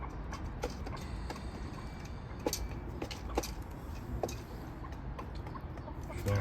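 A broody hen clucks softly and intermittently in a quiet setting, low murmuring notes spaced out over a steady background hum.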